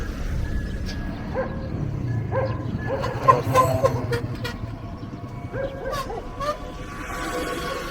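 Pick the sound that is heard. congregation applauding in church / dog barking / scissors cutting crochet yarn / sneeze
dog barking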